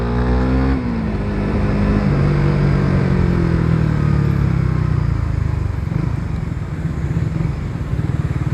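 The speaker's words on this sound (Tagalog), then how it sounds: "Traffic." Road traffic in Tagbilaran rumbles steadily, with a nearby motorcycle engine droning and shifting pitch as it rides along, cars and bikes blending into a continuous loud wash of engine noise and wind.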